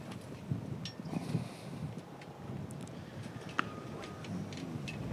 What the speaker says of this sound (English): you can hear how windy it is now